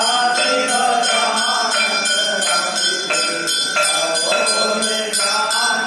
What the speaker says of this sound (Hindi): पंडित जी यहाँ पर घंटी बजा रहे हैं